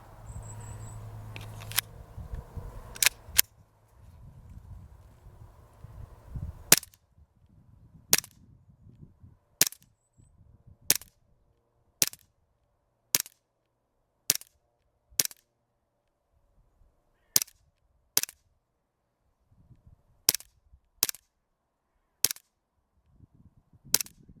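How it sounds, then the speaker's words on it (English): Umarex Glock 17 Gen 4 BB pistol firing at a target outdoors: about fifteen sharp, snappy shots spaced a second or two apart, some in quick pairs, with faint rustling and handling noise between them. "let's get on with some shooting, have a bit of fun, and see what this gun can do."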